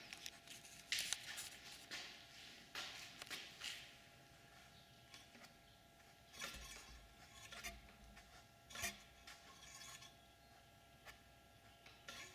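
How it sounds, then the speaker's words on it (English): A brake rubbing lightly in one spot on a spinning wheel gives faint, recurring scrapes and ticks against a quiet background, each brief rub repeating with the wheel's rotation. "It's much better, but it's rubbing a little bit in one place."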